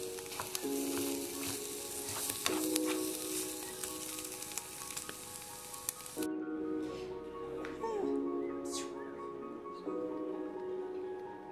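Egg and cheese sizzling together in a pan for a quick snack, a steady close crackle of frying with occasional utensil clinks and scrapes, and light talk over it.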